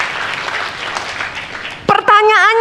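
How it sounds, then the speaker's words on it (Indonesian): Church congregation applauding, a dense patter of clapping hands filling most of the moment before a voice breaks in near the end. "tepuk tangannya boleh yang paling meriah buat Yesus Tuhan kita"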